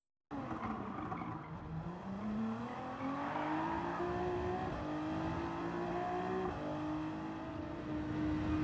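A four-wheel drive race car in Gran Turismo 7 sliding through a corner on the handbrake, engine holding a steady high drone that climbs in pitch as it powers out, with faint tire noise underneath.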